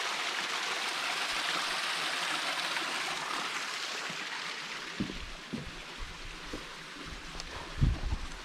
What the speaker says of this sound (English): We've been seeing water trickling down at a couple different spots.